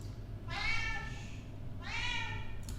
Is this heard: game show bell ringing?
no